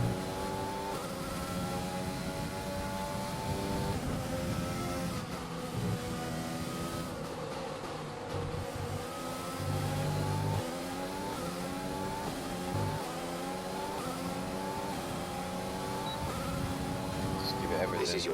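An F1 race car engine in the F1 2020 video game screams at high revs for a long stretch, pitch rising and dropping through gear changes, with a person talking over it.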